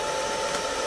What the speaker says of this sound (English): Alright, now let's do the blow dryer again. It's on the coldest setting and the lowest setting.